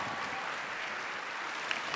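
Studio audience applause on an Indonesian talk show, a steady, fairly faint wash of many hands clapping with no voices over it.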